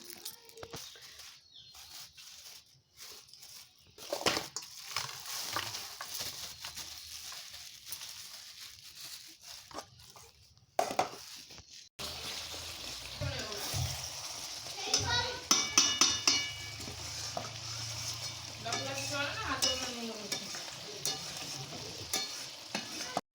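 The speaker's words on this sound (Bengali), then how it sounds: "এখন মাটনটা আমার বর রান্না করছে" Mutton cooking in a pan at home, with steady sizzling and frying plus the scrape and clink of a utensil stirring against the pan, rising louder in the second half alongside faint background voices.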